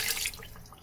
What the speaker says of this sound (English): we need to add some water to the InstantPot as well